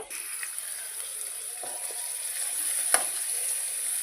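Mustard seeds and cumin, half a tablespoon each, crackling in hot oil, a faint steady sizzle with a few sharp pops, close and alone.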